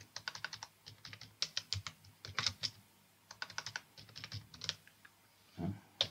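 Typing on a computer keyboard while setting up a Kubernetes cluster, close and clear, with bursts of rapid keystrokes separated by short pauses and a few heavier key taps.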